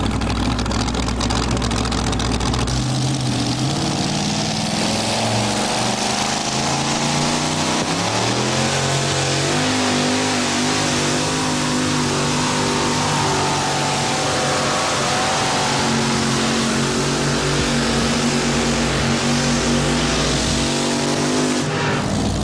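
A two-wheel-drive pulling truck at a 1990 truck pull in Pocono, Pennsylvania roars continuously as it drags the sled, the loud close engine climbing and holding pitch for the whole run.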